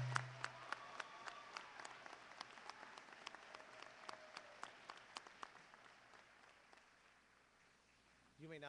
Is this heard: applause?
yes